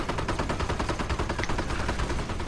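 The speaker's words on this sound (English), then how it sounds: "Now we have artillery or fake artillery." Video game artillery fire booms in rapid, overlapping bursts, a dense rattling barrage that carries on without pause, with no speech over it.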